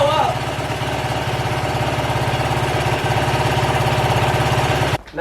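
Warmed-up Yamaha YFZ450R quad engine idling steadily close by with a fast, even throb, running alone until it cuts off sharply near the end.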